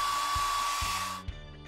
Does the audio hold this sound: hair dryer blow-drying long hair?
yes